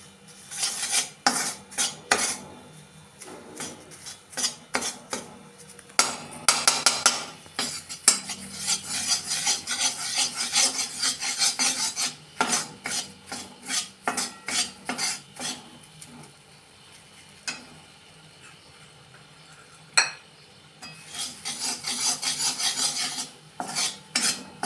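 A spatula scrapes and stirs masala ingredients being dry-roasted in a pan for stuffed okra, in repeated close bursts of clinking and rasping with brief pauses, and no talking.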